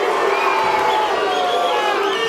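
A boxing crowd roars and shouts in displeasure during a professional bout, a dense, loud, continuous wall of voices with no clear individual words.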